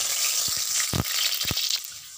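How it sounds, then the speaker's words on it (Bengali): Potato pieces frying in hot oil in a wok, a continuous sizzle broken by a few sharp spitting pops and bursts, close and moderately loud. "আমি এবার আলুগুলো ভেজে নেব।"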